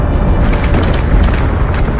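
A nuclear blast in the space combat game Battlestar Galactica: Deadlock, heard as a loud, sustained rumbling roar with dense low booming that fills the whole two seconds without letup.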